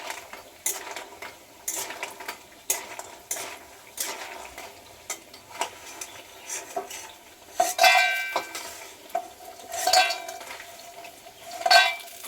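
Lentil dumplings (bori) finish frying in oil in a kitchen, heard as quiet background sizzling under repeated clinks and scrapes of a metal spoon against the pan, with no talking.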